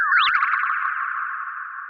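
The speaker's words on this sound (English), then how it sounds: "add a spring reverb that's pitched down a lot, so it just vibrates almost like a delay at a very low rate" A music sample run through a heavily pitched-down spring reverb: a bright chirping boing at the start settles into a sustained, slowly wobbling metallic tone that vibrates like a slow delay and rings out alone for about two seconds.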